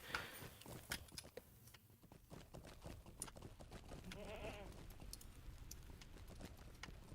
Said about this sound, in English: All these random goats, it's really interesting to me.